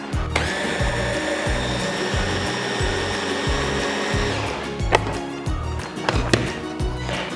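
A kitchen blender whizzes hummus ingredients with lemon juice and salt in a loud, steady pulsing whir, rhythmic chopping thumps underneath, for about four seconds before it stops and a few clatters follow.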